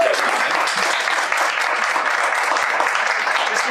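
An audience breaks into loud, sustained applause at a live talk, close and continuous clapping from a crowd with no speech over it.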